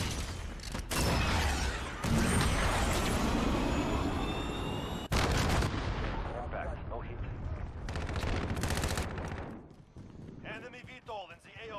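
Submachine gun fire in Call of Duty Modern Warfare, loud rapid automatic bursts with sharp cracks and mechanical clatter, broken by brief pauses and reload sounds, with game radio voices speaking over it.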